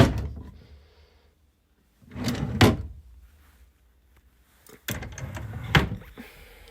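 Wooden drawers in a chest of drawers beside a bed in a rental property slide open and shut twice, each a short scraping rumble ending in a soft knock, close and fairly quiet with silence between.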